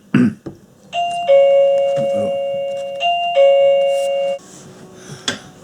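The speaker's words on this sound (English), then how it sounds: "I just had the doorbell ring for the man who's been laying our lawn for us" A household doorbell rings out with two loud, clear two-tone chimes in sequence, each ringing tone sustained before fading, with brief thumps and noises around them.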